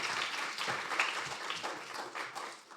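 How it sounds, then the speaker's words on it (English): An audience at a Franco-Indian law and business forum applauds Mr. Batra, a Supreme Court of India advocate, with a brief, moderately faint round of clapping from a seated crowd. "Can we please have a round of applause for Mr."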